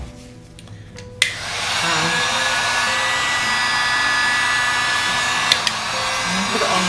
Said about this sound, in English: now I can pick up my heat gun